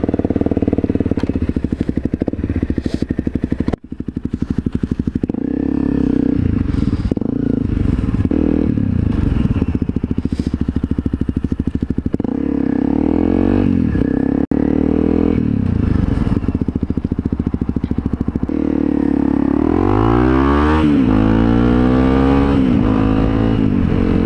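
A motorcycle riding on a public street in cold weather, its engine running loud and close throughout with changing revs and a rising, falling pitch sweep near the end; no talk over it.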